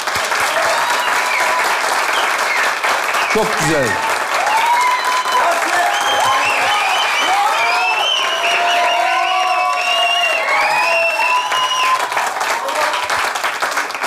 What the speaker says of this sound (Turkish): Yasin'e bir alkış